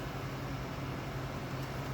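A TCL 9000BTU portable air conditioner runs with a steady, even whoosh of fan and airflow, fairly quiet and unbroken, with nobody speaking.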